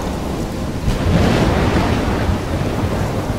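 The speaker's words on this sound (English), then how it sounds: "This is a crazy storm." Thunderstorm with heavy rain in the video game Life is Strange, a dense roaring wash of rain and wind swelling into a deep rolling thunder rumble, loud and continuous with no talking.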